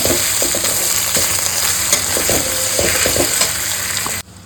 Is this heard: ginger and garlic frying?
yes